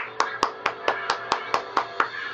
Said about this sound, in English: Let's all clap for Wolf.